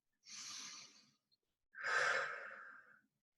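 Two audible breaths during a Flex Fit exercise class, a softer exhale followed by a longer, stronger one, close and airy against silence.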